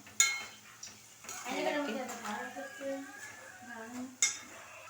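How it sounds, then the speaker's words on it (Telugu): Dry flattened rice is poured into a metal pan and stirred with a utensil, giving scraping and clinking strokes with a few sharp knocks at the start and end, at close range. "మేమైతే అటుకులు మళ్ళీ పోసుకుంటున్నాం"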